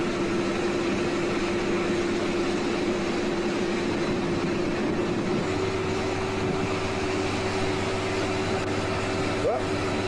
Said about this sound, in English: that's a high-speed train. The Intercity 125.